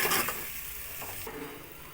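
Chopped tomatoes, three cut medium-small, stirred in a frying pan for a mushroom biryani, with a soft scraping of the utensil over a faint sizzle, close and continuous, without speech.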